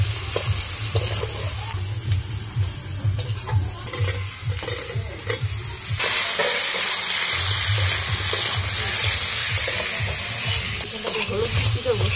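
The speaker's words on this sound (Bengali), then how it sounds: "এবার তোমরা বলো আজকে ডিম ভাজাটা কেমন হয়েছে" Eggs frying in a pan for a Bengali egg curry, a loud continuous sizzle with scraping and stirring throughout, growing more intense in the second half.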